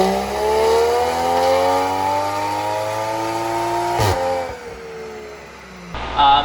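A 2020 Toyota Supra MK5 widebody fitted with an AMS turbo revs on a dyno, its engine note climbing loud and steady for several seconds, then cutting off sharply before a short burst at the end.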